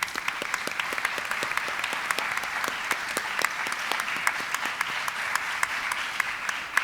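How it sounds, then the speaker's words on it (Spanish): An audience at a humanities symposium applauds steadily, individual claps distinct within the continuous patter, moderately loud and even for about seven seconds with no talking. "un aplauso para Vicky por ese logro"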